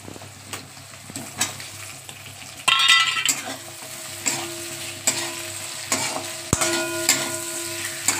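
Tomato slices sizzle and fry with onion in a pan for a mustard-poppy-yogurt bhetki fish curry, a steady close crackle broken by scraping stirs and an occasional utensil knock against the pan.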